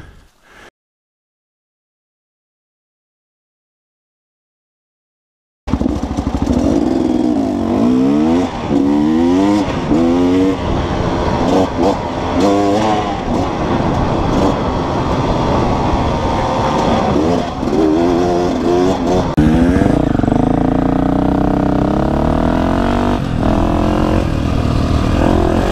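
2-stroke and 4-stroke dirt bikes climbing a loose rocky, sandy trail on the Uncompahgre Plateau; after a few seconds of silence, close engines rev hard and shift up and down continuously, no talk.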